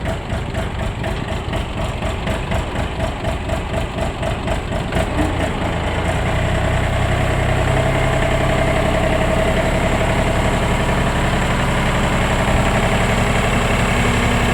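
A small three-cylinder diesel Shifeng compact tractor engine idles steadily and close by, a continuous low rumble with a faint rhythmic vibration throughout.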